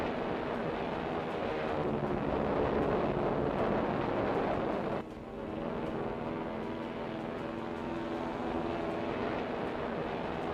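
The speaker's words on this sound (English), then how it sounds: "the first of the 16 B-25s leave the flight deck, successfully getting into the air" World War II B-25 bombers roar off the flight deck of the aircraft carrier USS Hornet, a loud, sustained broadband engine rumble that dips briefly midway before building again, with wind buffeting throughout.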